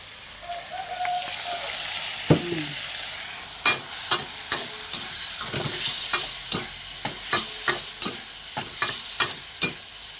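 Shrimp stir-fried with holy basil, oyster sauce and sugar in a pan, a soft sizzle under repeated sharp scraping and clanking strokes of a spatula against the pan, close and rhythmic.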